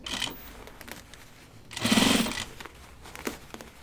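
A sewing machine top stitching a dopp kit, a short whirring burst near the middle between quieter handling clicks and rustles, close and fairly soft, no talk.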